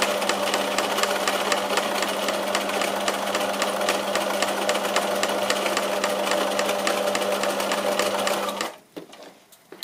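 A sewing machine runs a zigzag stitch along the edge of a rounded fabric pocket, a loud, steady rapid mechanical whirring and needle clatter that stops abruptly near the end, leaving quiet room noise.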